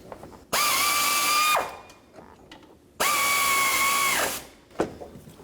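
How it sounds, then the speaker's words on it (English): A power tool with a 12 mm socket snugs an alternator bolt on a 2006-2012 Toyota Rav4, two steady whirring bursts of about a second each with a short pause between, close and loud. "Then I'm going to snug the bottom one. That's a 12 millimeter socket."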